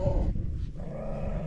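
Close, low rumbling growl from a Central Asian shepherd mix dog at a sheepfold, a steady continuous snarl over about a second and a half with no speech.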